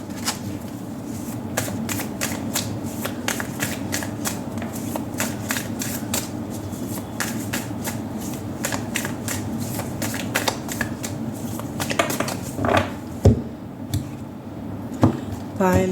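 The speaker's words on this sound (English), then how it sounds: "Let me shuffle your cards." A Wild Unknown tarot deck is shuffled close up, with a long run of rapid, papery riffling flutters and card taps in an uneven rhythm over a low background hum, and a few louder knocks near the end.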